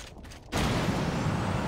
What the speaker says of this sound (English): That's definitely the shotgun.